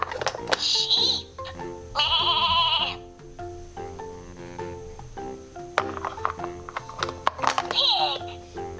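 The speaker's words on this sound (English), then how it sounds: "Sheep." Bleating sheep sounds from a Laugh & Learn farm animal puzzle toy, heard in a few short electronic bursts over a steady toy tune, with someone speaking in between.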